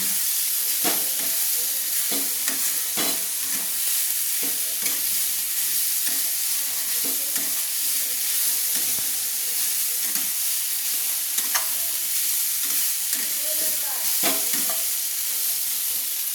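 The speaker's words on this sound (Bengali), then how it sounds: "এবার সোয়াবিনটাকে মশলার মধ্যে নিয়ে নিচ্ছি সোয়াবিনটাকে কচিয়ে নিচ্ছি" Fried soybean chunks stir-fried in spice masala in a wok give a steady, loud sizzle and hiss throughout, broken by frequent scraping and knocking of a spatula against the metal, close up with no talk.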